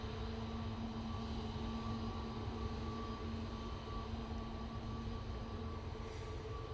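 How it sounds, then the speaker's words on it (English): A Jet2 Boeing 737 descends on its landing approach, a steady, distant broad roar with a faint whine that holds evenly throughout, with no talking over it. "here comes Jet2 737 coming down Victor Alpha"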